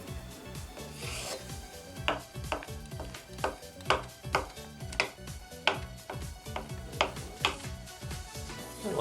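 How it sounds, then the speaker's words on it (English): A knife cuts boiled eggs in half on a board for cold red beet soup, giving a steady run of close, rhythmic chopping taps and scraping rubs with no talking. "So we're just gonna cut them in half."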